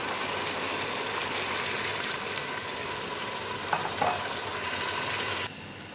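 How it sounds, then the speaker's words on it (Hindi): Water goes into a pot of peas frying for pulao, and a strong, steady sizzle and hiss fills the clip with a brief splash near the end before it softens. "पानी हमने इसमें डाल लिया।"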